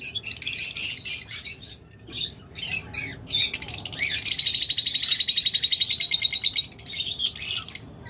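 Lovebirds in a breeding cage chirping and squawking loudly up close, bursts of shrill tweets followed by a long rapid trilling run and further calls.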